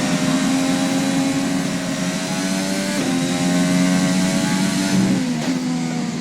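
A Formula 1 car engine screams at high revs during a qualifying flying lap in the F1 2020 racing game. The loud, continuous whine runs alone throughout, with sharp gear-change dips at about three and five seconds.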